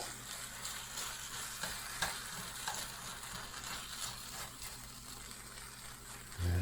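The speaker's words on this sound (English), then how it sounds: "One man stir fry." Stir fry sizzles steadily in a pan, with scattered scrapes and taps from stirring, and a low thump at the very end.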